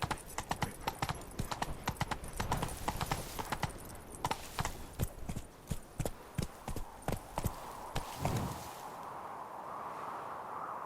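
A horse gallops in The Witcher 3: Wild Hunt, with rapid, loud hoofbeats that slow into a trot and stop. A low snort follows, then quiet ambience.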